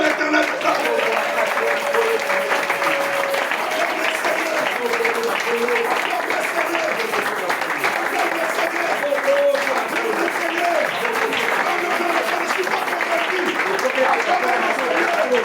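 A church congregation keeps up steady, loud applause and acclamation for well over ten seconds, dense clapping mixed with cheering and raised voices filling the hall.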